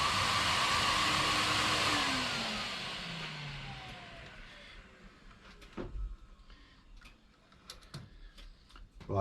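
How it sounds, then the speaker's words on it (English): A workshop hoover used for dust extraction on a router roars loudly and then spins down, its pitch falling over several seconds. Scattered sharp clicks and knocks from the woodworking setup follow in the quieter stretch. "it always helps to turn the hoover on first."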